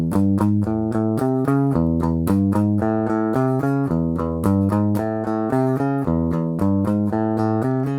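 A guitar plays a riff in brisk, evenly picked notes, up close and alone, the figure repeating steadily through the passage.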